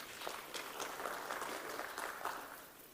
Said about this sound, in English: Can you please give the DJ a round of applause?